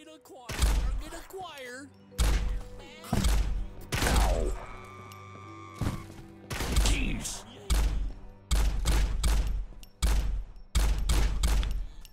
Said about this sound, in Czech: A ta střelba je taková divná, moc mi to nesedí.